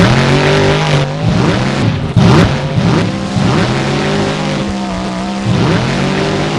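A monster truck tears through a time attack run in a tournament, its engine roaring loud and continuous with shifting revs and tire noise, no voices heard.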